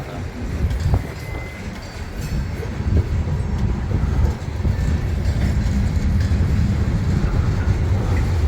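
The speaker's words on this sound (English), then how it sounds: "There's the end of the train." A Union Pacific freight train rolls past in Colton or Fullerton with a continuous heavy rumble and scattered clanks and rattles of wheels and cars, steady and fairly close.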